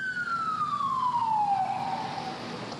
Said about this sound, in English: I don't know if we see more than one police car.